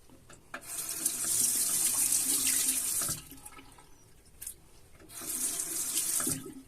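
Tap water runs and splashes over shaving gel as it rinses away, two steady bursts of flow separated by a short quieter pause with a few drips, close and alone.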